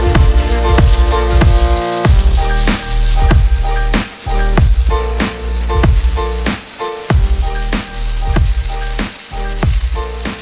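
Steel bar being arc welded for a homemade Doomfist hand cannon prop, a loud continuous crackling sizzle running through the whole stretch with brief gaps and no talking.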